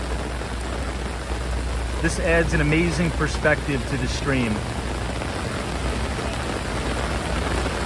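Heavy rain pours steadily across New York City, a dense even hiss filling the whole stretch, with someone talking over it partway through.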